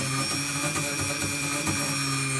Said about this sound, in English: I've got a little wire brush on my Dremel that I can get in there and clean some of this with